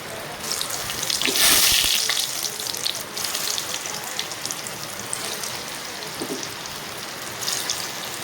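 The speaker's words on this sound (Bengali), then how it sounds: "কোপ্তাগুলো আমি সুন্দর করে লাল লাল করে ভেজে তুলে নিব" Bottle gourd koftas fry in hot mustard oil with a continuous crackling, bubbling hiss that peaks early and then settles into an even sizzle, with no one speaking.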